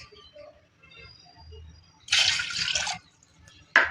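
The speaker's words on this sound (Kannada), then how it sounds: "ಎರಡು ಬೌಲಷ್ಟು ನೀರು ಹಾಕಿ" Water splashes into a cooking pot on a gas stove, set to boil, in two short bursts: a steady pour of about a second, then a brief final splash, with quiet kitchen sounds in between.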